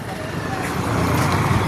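Steady traffic of many vehicles at a crowded tribal Holi (Bhongarya) market in the Dhadgaon Akrani hills, a continuous broadband roadway rumble close by, with voices mixed in.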